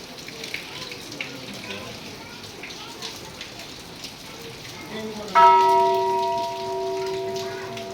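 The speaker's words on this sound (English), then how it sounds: "here's a big bell." A large temple bell at the 900-year-old Golden Temple in Kathmandu rings once, loud and near, its bright tone sustaining and slowly decaying over light rain and ambient murmur.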